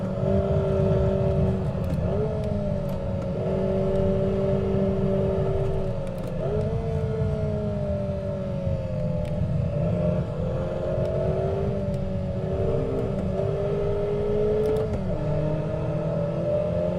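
A race car engine in the Assetto Corsa sim racing game revs loudly and steadily, with sharp blips as it rev-matches several downshifts, the pitch dropping and climbing in a continuous close drone.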